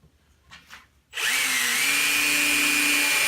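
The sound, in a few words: power drill drilling a hole in wood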